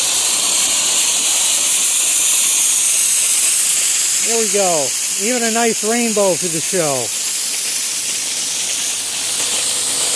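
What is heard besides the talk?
compressed air blowing out inground sprinkler heads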